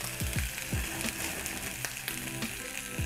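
A steady crackling sizzle of fish pan-frying in a hot pan, with occasional scraping and clinking of a utensil.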